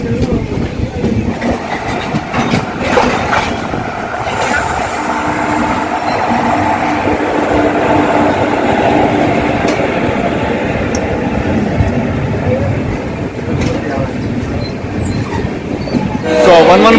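The Jaipur–Secunderabad Express pulls out of platform 1 at New Amravati with a loud, continuous rumble and rattle of rolling wagons, wheel clatter and bursts of horn close by.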